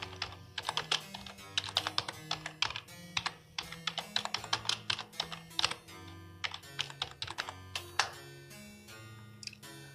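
Fast typing on a computer keyboard, close and clear, with dense irregular bursts of clicking keystrokes running throughout and no voices.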